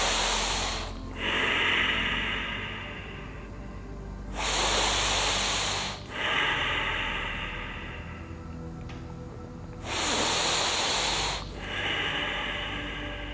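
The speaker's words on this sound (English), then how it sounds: "lie down, just take a deep breath 3 times." After a yoga shoulder stand, a person lying down takes three slow, deep breaths. Each is a long, airy inhale and exhale, close and clearly audible.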